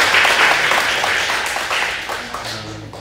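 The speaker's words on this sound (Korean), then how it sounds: "박수 한번 주세요." A church congregation clapping together, a dense burst of applause that starts strong and slowly fades over a few seconds, with a voice speaking faintly beneath it.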